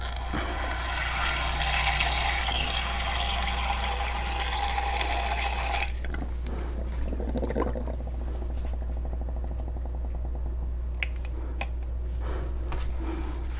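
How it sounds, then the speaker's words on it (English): Distilled water pours in a steady stream for about six seconds as it is measured out, then stops, followed by a few faint clinks and handling noises. "So the first thing is to measure your distilled water."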